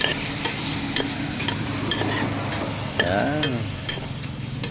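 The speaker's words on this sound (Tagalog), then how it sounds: "guys, ipasok na natin ang ating chicken sa ginisa" Chicken being sautéed in a pan for a mung bean dish, a steady sizzle with repeated sharp scraping clicks of a utensil stirring, and a brief voice over it.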